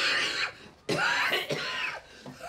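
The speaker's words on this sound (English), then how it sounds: "Oh, well, that cough's no better, is it?" A person coughs several times in quick, harsh bursts, close by, with short pauses between.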